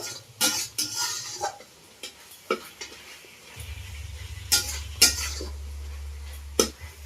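Spiced masala being stirred and fried in a pan for a dahi bhindi (okra in yogurt) dish: a spoon scrapes and clinks against the pan in irregular strokes, and after about three and a half seconds a low, steady sizzle sets in underneath.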